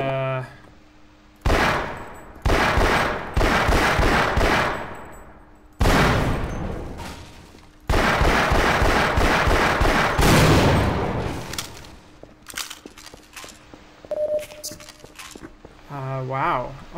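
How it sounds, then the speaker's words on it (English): Alien heavy weapon firing in the video game Half-Life, loud rapid bursts of automatic gunfire in several long volleys, with quieter clinks and gaps between them. "now I have a crazy alien heavy weapon"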